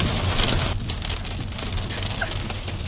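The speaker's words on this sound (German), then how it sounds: "Also die Hagelkörner waren echt heftig." Heavy hail and rain pelt down during a severe storm in Bretten near Karlsruhe, a dense, loud, continuous patter and rattle of hailstones with no break across the clip.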